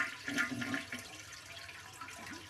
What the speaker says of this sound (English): flush the toilet by holding down the handle until the water drains completely